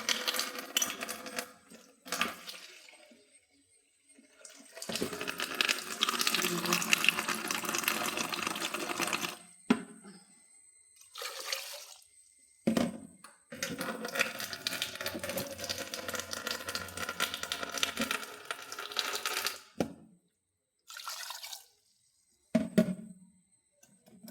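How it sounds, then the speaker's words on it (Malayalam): Water pours into a cooking pot for boiling sweet potatoes in short splashing bursts separated by silent gaps, with light clatter between pours; no voices. "കുറച്ച് വെള്ളം ഒഴിച്ചു കൊടുക്കാം."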